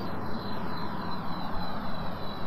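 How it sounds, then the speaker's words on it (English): Aerospike rocket engine firing in Kerbal Space Program, a steady broadband roar with a low rumbling core that holds at constant loudness throughout, with no voices over it. "Let's engage the aero spike"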